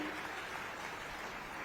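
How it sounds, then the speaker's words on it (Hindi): Audience applause at a ceremony for a museum inauguration and honours event, a steady wash of many hands clapping, moderately distant and continuous through the short moment. "आप ताली बजा रहे हैं, मुझे अच्छा लग रहा है"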